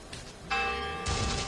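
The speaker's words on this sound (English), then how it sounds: "Okay, the bell. Okay. The bell, very Undertaker-ish" A bell rings on a Trials Fusion track, two quick metallic strikes with a bright ringing sustain, moderately loud and without talk.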